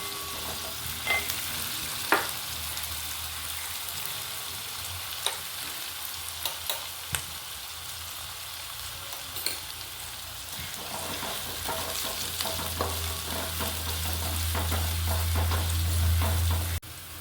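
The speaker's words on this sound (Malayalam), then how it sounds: "നമ്മൾ സവാള നന്നായി വഴന്ന് വന്നിട്ടുണ്ട് കേട്ടോ" Onions sauté in a pan for beef biryani, a steady broadband sizzle with scattered clicks of stirring, growing louder and denser toward the end; no one speaks.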